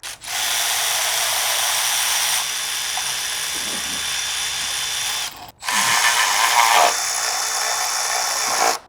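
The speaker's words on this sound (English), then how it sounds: "come out with high-speed ratchets in 3/8 and 1/4 inch" Milwaukee high-speed ratchet whirring loudly and close in two continuous runs, the motor cutting out briefly near the middle before spinning up again with a steady high whine.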